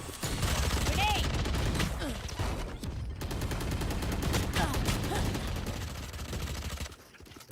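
Rapid bursts of gunfire from a Valorant esports qualifier match, dense and continuous over game sounds, with voices talking underneath throughout.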